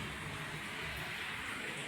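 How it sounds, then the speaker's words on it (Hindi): Rain falls outside with wind in a continuous broadband wash that stays even throughout, fairly loud and unbroken by speech. "बाहर भी मतलब बारिश के साथ साथ हवा भी चल रही है"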